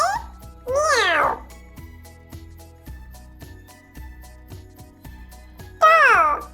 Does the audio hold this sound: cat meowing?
yes